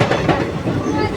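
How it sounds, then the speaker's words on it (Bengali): The Teesta Torsa Express pulls out of Hooghly Ghat with a steady, loud rumble and clatter of wheels on rail, heard from on board. "চলো এখন ট্রেন ছেড়ে দিয়েছে।"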